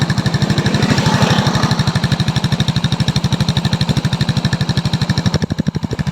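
An Easyride 150Fi motorcycle engine idles steadily with its exhaust thumping in a fast, even pulse, close and loud throughout with no talking.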